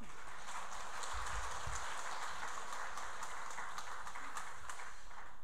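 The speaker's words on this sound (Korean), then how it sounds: "하나님께 박수 올리겠습니다" A Korean church congregation applauding to God after a choir's hymn: continuous, even clapping from many hands, fairly faint and steady throughout, with no voices over it.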